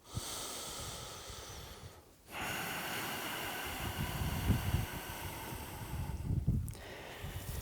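Slow, deep breathing during a beginner-to-intermediate yoga exercise: long, close, airy inhales and exhales, two full cycles, with a short pause between them.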